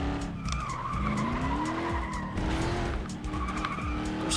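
A race car in the Flatout 2 racing game skids with long, wavering tire squeals over a droning engine, loud and continuous with pitch sliding up and down.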